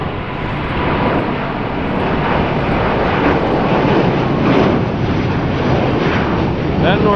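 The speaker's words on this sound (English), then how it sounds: "Got the Delta Airbus" A Delta Airbus A330neo passes at Los Angeles airport with a sustained, fairly loud jet roar that swells gently and holds steady, a brief tonal chirp near the end.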